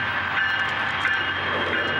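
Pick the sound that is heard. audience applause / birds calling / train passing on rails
train passing on rails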